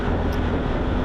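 Suzuki GSX-8R motorcycle engine giving a steady, loud low rumble that fills the moment without a break, a dense throaty drone with no voices over it.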